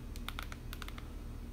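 A computer keyboard is being used to type in a web address, giving a quick run of distinct key clicks in two short bursts, close and crisp over a faint low background hum.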